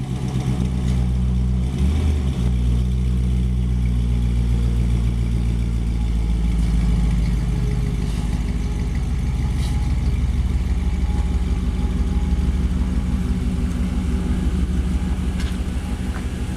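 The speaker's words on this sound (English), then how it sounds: "He's backing it out of the garage here." The LS-1 V8 in a 1957 Chevrolet Bel Air convertible restomod rumbles at a low, steady idle after a cold start while the car backs slowly out of a garage. The engine is loud and close throughout, with no speech.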